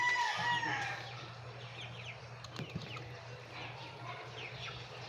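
A chicken clucks and squawks at moderate distance before slaughter, with a steady low hum beneath and scattered bird calls, no talking.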